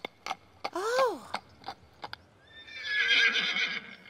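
A Teletubbies character, Dipsy, does a voice imitation of a horse's whinny: a rising-and-falling neigh after a few sharp taps, then a breathy, snorting second call, fairly close and clear.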